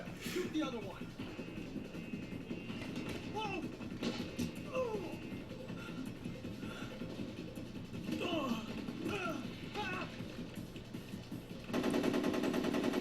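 Bursts of gunfire from Metal Gear Solid 3: Snake Eater crackle faintly beneath continuous talking, with sporadic short shots and some background game noise.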